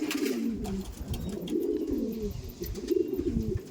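A racing pigeon, a Chennai Madras hen, coos in a loft with a steady run of low, rolling coos close by, continuing without a break.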